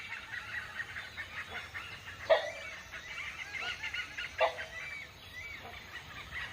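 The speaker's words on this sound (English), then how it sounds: "The rufous-necked hornbill." Rufous-necked hornbill calling in the wild in Thailand, a few faint honking calls, two sharper ones standing out over soft forest background.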